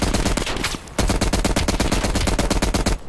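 Rapid automatic gunfire from the video game Call of Duty Black Ops Cold War, loud and nearly continuous bursts with a short dip before resuming a steady stuttering rhythm until the end.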